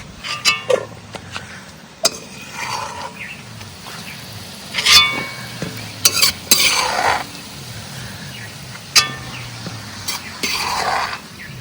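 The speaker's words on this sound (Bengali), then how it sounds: "আলুটাকে হালকা করে ফ্রাই করে নিই।" Potatoes lightly frying in a pan at an outdoor forest cook-up, with bay leaves and dried red chillies in the oil; a soft, steady sizzle runs underneath scattered metallic clinks and scrapes of a spoon stirring against the pan.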